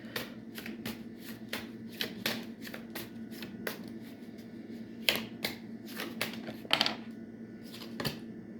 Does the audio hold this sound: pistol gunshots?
no